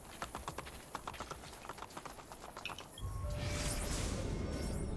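Horse hooves clip-clop in a steady rhythm while riding in Assassin's Creed Brotherhood, gallop-like beats for about three seconds before a louder, dense wash of ambient noise takes over.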